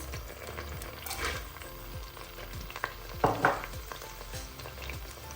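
Sliced onions fry in about a quarter cup of oil inside an Instant Pot, giving a steady, moderate sizzle with a few sharper crackles and pops near the middle and no talking.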